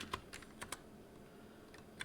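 Keys clatter on a computer keyboard in quick, scattered bursts with brief pauses between them, faint and somewhat distant, no voices.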